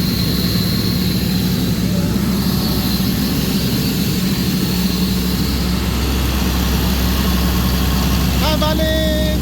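A rebuilt Caterpillar C7 diesel engine runs steadily at idle, a loud continuous low drone close by, with a brief tonal whine near the end.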